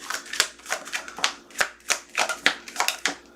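Tarot cards being shuffled in a quick, regular series of riffling snaps, about a dozen close bursts, with no talking.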